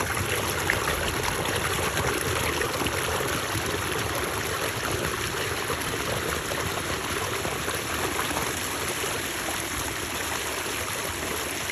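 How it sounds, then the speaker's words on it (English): Water trickles steadily out of a concrete structure outdoors, a constant close splashing flow without pause. "take a look at where that water is coming out."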